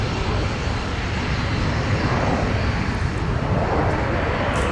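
An Airbus A330-900neo airliner at MSP airport gives a broad, steady engine roar that stays loud and constant, heard alone with no talk over it.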